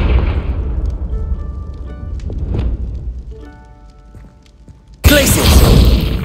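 Confringo, an explosive spell in Hogwarts Legacy, ends a stretch of rumbling game sound in a sudden loud blast that holds strong, with a dull boom and crackling burst, alongside some speech.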